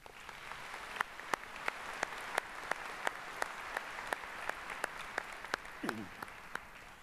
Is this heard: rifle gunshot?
no